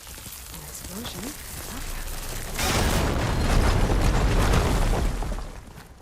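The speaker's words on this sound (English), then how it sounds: "An explosion." A loud, sudden explosion bursts in the Horizon Forbidden West video game, its deep rumbling blast sustained for a few seconds over the game's ambient sounds before fading.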